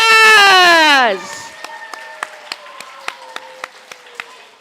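After a loud drawn-out vocal shout, an audience at a school literary fest claps for teachers in slow, evenly spaced single claps that carry on steadily to the end.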